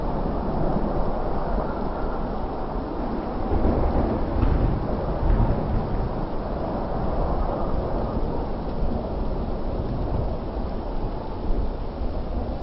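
A thunderstorm rolls on with a steady wash of heavy rain and deep, low thunder rumbles swelling in the middle, continuous and alone, with no voices.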